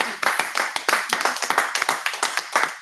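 A small group at a Toastmasters club meeting claps in quick, uneven bursts, sharp close-up hand claps overlapping for a few seconds without talk.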